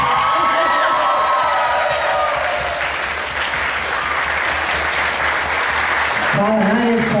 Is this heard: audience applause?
yes